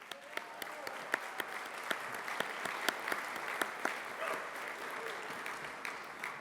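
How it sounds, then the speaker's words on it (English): A conference audience at a downtown summit gives a round of applause, a soft, fairly distant spread of clapping with sharper individual claps standing out through it. "Maggie and Katie, let's give them a round of applause for their work."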